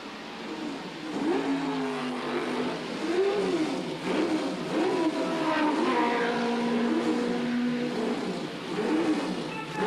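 A Can-Am race car at Mosport Park during the 1985 Can-Am Challenge, its engine repeatedly rising and falling in pitch as it shifts and accelerates past. The loud, continuous engine note carries through the whole stretch.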